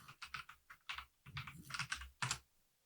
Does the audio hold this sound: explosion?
no